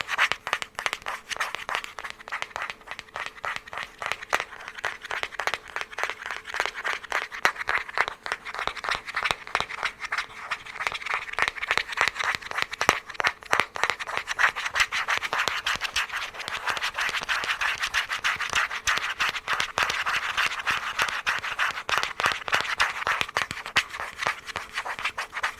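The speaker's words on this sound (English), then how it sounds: "Some scratch tapping." Rapid scratch tapping with fingernails, a dense, close, crackly patter of quick strokes continuing steadily without any speech.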